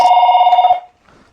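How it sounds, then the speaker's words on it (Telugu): A telephone rings loudly and close by with a fast, trilling electronic bell that lasts under a second, then cuts off into near silence. "దానికి ఫోన్ వచ్చినప్పుడు నేను వీడియో అయితే రికార్డ్ చేస్తాను"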